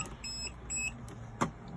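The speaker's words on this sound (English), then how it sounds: "It'll probably start beeping." A campervan hookup control panel gives short electronic beeps, several thin tones in a row with a soft click near the end, faint and up close in a quiet interior.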